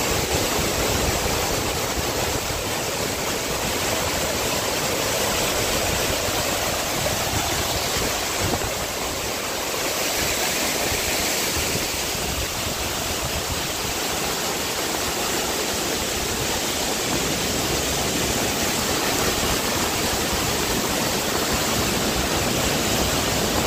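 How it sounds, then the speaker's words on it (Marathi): The monsoon-swollen Waghoba waterfall on the Surya river near Masvan roars in a dense, unbroken wash of rushing water, loud and close, steady throughout with no voices. "वाघोबा धबधबा"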